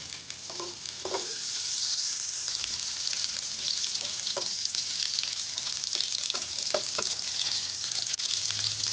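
Butter sizzles steadily in a frying pan as the base for a béchamel sauce, a dense, even crackle running throughout with scattered sharper pops and faint stirring scrapes.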